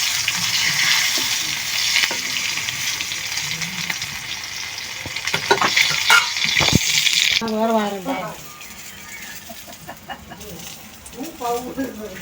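Chicken legs fry in shallow oil with a continuous loud hiss and sizzle that drops away partway through, followed by quieter clinks and kitchen sounds.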